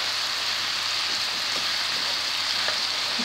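Onion and red, green and yellow bell peppers frying in a pan, a dense, steady close sizzle like rain, with faint stirring ticks and no voices.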